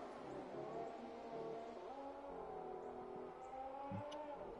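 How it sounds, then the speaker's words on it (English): Alfa Romeo race car in F1 2018 at the China GP, its engine droning steadily with rising and falling revs, fairly close and continuous throughout with no talk. "Collins, first man on track in the Alfa Romeo, showing what that car can do."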